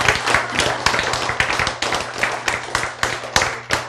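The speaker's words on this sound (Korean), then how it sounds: "박수." An audience at a spoken talk claps in a steady, fairly quick rhythm of sharp slaps lasting about four seconds, with a low electrical hum running underneath.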